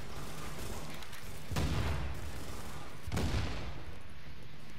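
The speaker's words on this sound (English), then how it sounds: "Grenade." Two heavy grenade blasts go off about a second and a half apart in the shooter game Tom Clancy's The Division, each a loud, booming burst that quickly fades into rumble.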